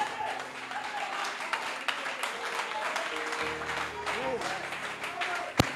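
A church congregation claps and applauds at a French-language sermon, a steady dense patter of hands going on throughout, mixed with voices and music.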